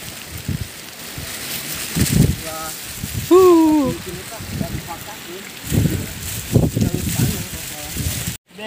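Rain and gusting wind roar steadily in a mountain storm while voices talk and call out over it.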